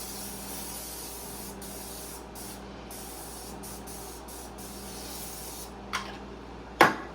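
Grease is sprayed onto a baking pan in a steady, fairly quiet hiss broken by short pauses, with a couple of faint clicks and knocks near the end.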